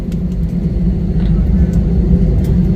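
A passenger airplane that has just landed at Nakhon Phanom Airport in Thailand, heard from inside the cabin as a steady, loud low engine rumble and hum with no talk.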